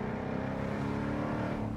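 A Jaguar F-Type convertible's V8 engine rumbles steadily at moderate volume, a dense, low, continuous drone heard from inside the open car with no talking.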